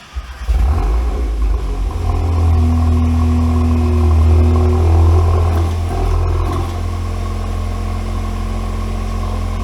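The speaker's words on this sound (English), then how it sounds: "We're gonna lower it, see if the valves work, see what it sounds like." An MK8 Golf R engine with a CTS valved catback exhaust starts up and runs close by. It gives a heavy, steady low rumble with a slight rise in revs near the start, then settles into an even idle drone, with no speech.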